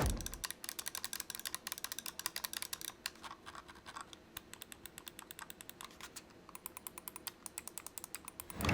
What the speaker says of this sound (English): The mouse clicks are the same as everything else.